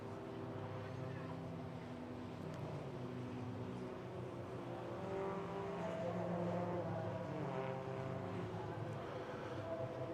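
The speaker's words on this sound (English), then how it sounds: "So here's Josh Dremel working his way back to the pits." A race car heading slowly back to the pits at Queensland Raceway, its engine a steady, fairly faint droning hum that swells a little midway, and no talking.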